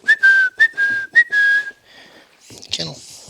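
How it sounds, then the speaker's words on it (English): A dog training whistle sounding the recall command during basic puppy obedience training: a quick series of shrill, close blasts, a couple of them slightly longer, followed by a short burst of other noise at the end. "We're still resorting back to our whistle with the here command"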